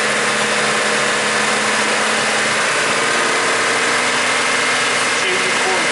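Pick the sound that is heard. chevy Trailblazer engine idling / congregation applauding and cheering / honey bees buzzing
chevy Trailblazer engine idling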